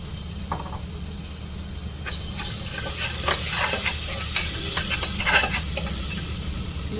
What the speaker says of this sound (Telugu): పచ్చిమిర్చి వేగిపోయింది కదా అల్లం వెల్లుల్లి పేస్ట్ వేసుకోవాలి పసుపు వేసుకోవాలి